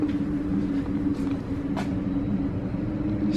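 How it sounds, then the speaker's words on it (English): Wind swirling through a stairwell on a windy day, a steady low rumbling roar with a faint whistling hum running throughout, continuous and fairly quiet, no speech. "wind in the stairwell, because it's a windy day outside,"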